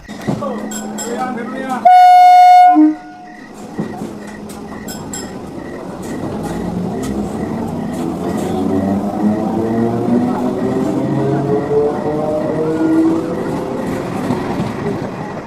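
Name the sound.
train stopping at a station at night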